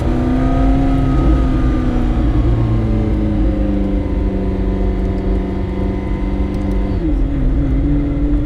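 A McLaren P1 hypercar engine revs loudly and steadily for several seconds, its tone climbing and then dipping sharply near the end, with no talking over it.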